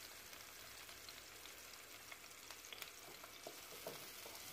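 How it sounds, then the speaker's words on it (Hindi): Bell pepper frying in a pan with onions for veg pasta gives a continuous soft sizzle with faint crackles and light stirring, quiet and alone without any voices. "अब हम इसमें शिमला मिर्च ऐड करेंगे। इसको जो है फ्राई करेंगे।"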